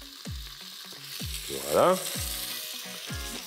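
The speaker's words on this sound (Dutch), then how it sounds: "groentjes zijn aangestoofd" Sweet peppers and chili stewing in a pan give a steady sizzle and crackle close by. Voiced sounds are mixed in with it, and a single short word is spoken.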